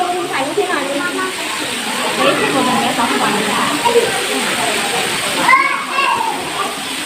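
Waterfall at a temple site in Ubon Ratchathani, Thailand, a steady rushing hiss of falling water running throughout, with children and adults talking over it.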